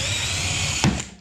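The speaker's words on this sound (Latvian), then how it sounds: "Es daru tā, es izurbu cauri." A power drill bores a hole through overlapping filter material, a steady close whine lasting about a second with a brief louder bite near the end before it winds down.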